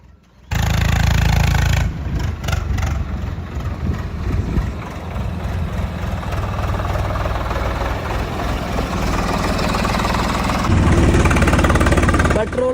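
A Swaraj 100HP tractor with a newly replaced engine runs steadily, a loud, close diesel rumble with knocking pulses that continues for the whole stretch, rising slightly near the end.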